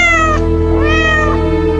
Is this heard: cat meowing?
yes